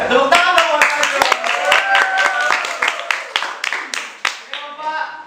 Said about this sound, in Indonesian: Tepuk tangan dong buat Pak Jo.